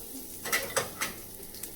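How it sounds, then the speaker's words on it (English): Garlic and fresh cracked pepper sauté lightly in a pan, giving a soft, quiet sizzle broken by a few light clinks of a utensil against the pan. "you're just going to saute it lightly"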